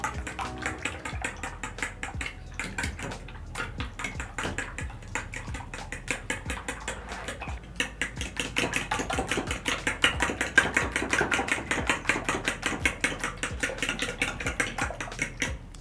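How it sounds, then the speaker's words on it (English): A fork whisking egg, milk and cinnamon in a bowl, a fast, even run of light clicking beats, close and steady, growing slightly busier toward the end, with no speech. "Then I'm going to use my fork and whisk together all the ingredients."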